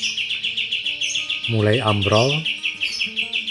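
A caged murai batu (white-rumped shama) gives a steady series of repeated high chirps, fairly close and clear. A voice talks over the middle of the birdsong.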